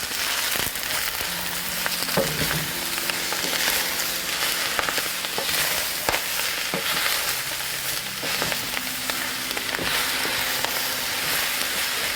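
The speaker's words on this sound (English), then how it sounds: "Stir it again." Brussels sprouts with onion and olive oil fry loudly in a pan, a dense, steady crackling sizzle broken by occasional stirring knocks and scrapes.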